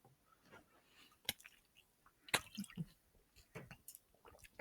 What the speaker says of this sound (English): Let me take a sip of water.